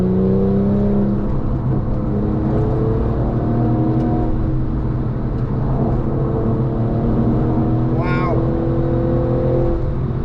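A tuned Porsche 911 997.2 Turbo engine climbs steadily in pitch as it revs hard toward its 7,000 RPM redline, a continuous loud whine with rising harmonics over ten seconds, with a brief chirp near the end.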